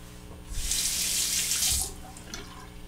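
Water runs from a bathroom tap for about a second to rinse a safety razor, a close, steady splashing hiss that starts and stops abruptly with no talking.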